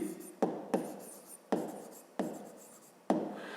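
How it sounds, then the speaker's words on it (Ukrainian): Pen strokes on paper during a fifth-grade maths exercise on division, with about five distinct scratchy onsets, each fading under a soft writing rub, close and fairly quiet, with no talking. "Я дещо все-таки занотую, щоб було зрозуміліше."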